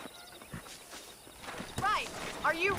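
Horse hooves clop in Red Dead Redemption as the rider sets out to herd cattle, a loose rhythm of soft thuds under talk, with a few sharp higher calls near the end.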